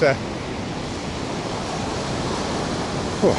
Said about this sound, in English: I hope you can hear me okay above the noise of the surf